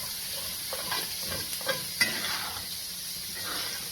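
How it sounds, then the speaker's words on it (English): Steak cooking in melting butter in a pan, a soft continuous sizzle with a few light utensil taps and clinks in the middle, fairly quiet and without speech. "as the butter melts into the pan, you just want to constantly sprinkle this back onto the steak"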